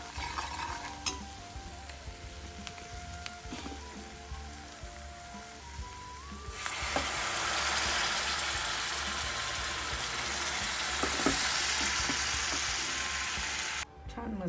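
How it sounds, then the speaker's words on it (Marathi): Spicy kat vada curry, a chili, turmeric and hot-water gravy, in a pot, quiet bubbling and stirring at first, then a louder, dense continuous boiling hiss that holds steady until a sudden stop. "त्याला उकळी आली की आपला कटवडाचा कट तयार झाला"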